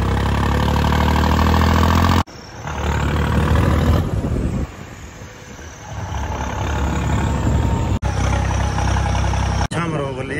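A Farmtrac tractor engine runs loud and close with a deep, steady rumble, its tone shifting as it works and pausing briefly with abrupt breaks.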